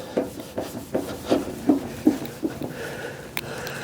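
A hand rubs a cloth back and forth over faded paint on a 1964 Chevy C10, producing about eight rhythmic, close friction strokes that rise and fade evenly.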